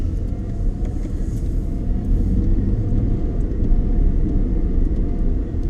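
Dodge Nitro engine while driving, a steady low rumble and drone from inside the cabin, continuous and fairly loud with no talking.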